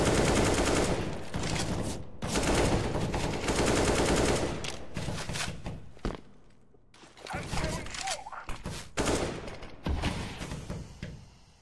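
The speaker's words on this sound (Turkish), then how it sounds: "Resmen sıcak çatışma var ya" Sustained close gunfire in a CS:GO firefight, dense automatic bursts with brief pauses and scattered single shots, loud and continuous throughout.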